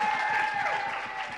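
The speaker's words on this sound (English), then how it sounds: "Let's have another round of applause for contestant number 8." An audience at a hospitality pageant applauds contestant number 8 with steady, continuous clapping, a dense crowd sound held evenly for the whole moment, with a faint tone ringing above it.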